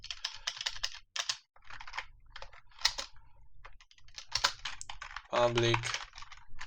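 Computer keyboard typing while writing code: rapid bursts of clicky keystrokes near the microphone, with brief pauses and one heavier clattering run near the end, under a quiet voice.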